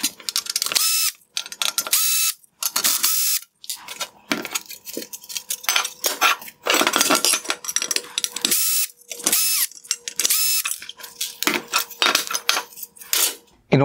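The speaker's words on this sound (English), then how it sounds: "There are three T15 torque screws holding the chrome reflectors on each LED unit. I will go ahead and remove those now." Small T15 Torx screws being backed out of the chrome reflectors inside a 2016-2019 Jaguar XF / F-Pace LED headlight, heard as close, bright metallic clicks, ticks and rattles in irregular bursts with short pauses, no voices.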